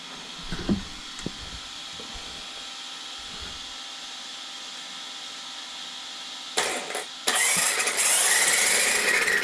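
An Absima RC car motor whines at part throttle, around half speed, with the car supported on a large wheel; a quiet hum runs for several seconds, then a louder, sustained whirr kicks in near the end.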